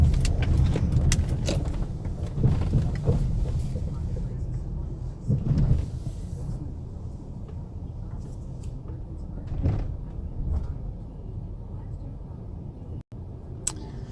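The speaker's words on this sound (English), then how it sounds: "Busy parking lot. Busy AF." Busy parking lot outside a row of restaurants, with steady low car and engine rumble, a few passing vehicles and scattered clunks like doors or keys, as people talk nearby.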